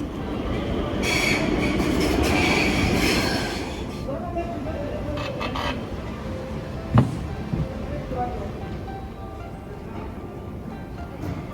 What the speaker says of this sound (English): This is the station, train station, the metro.